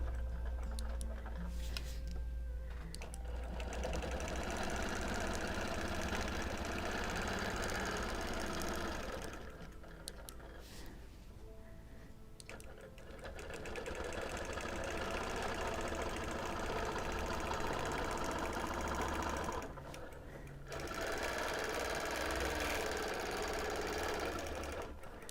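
A sewing machine doing free-motion quilting on a chevron whole-cloth quilt, running in long steady rattling bursts with brief pauses between stretches, close and alone.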